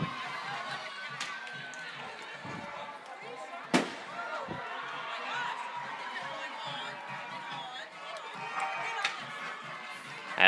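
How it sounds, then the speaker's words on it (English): Fireworks bang at a varsity football game between Grinnell and Carlisle as teams take the field, with one sharp loud burst and a few fainter pops above steady crowd noise and an announcer talking. "Also, fireworks going off."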